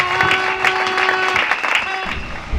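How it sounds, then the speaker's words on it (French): A crowd at a university graduation ceremony in Sakania claps loudly and steadily for a few seconds, with a sustained tone and some voices mixed into the applause. "Acclamons, acclamons."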